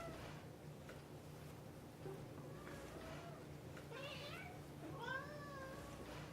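A cat in a home with many cats meows twice in the later part, soft rising and falling cries over a faint steady background hum.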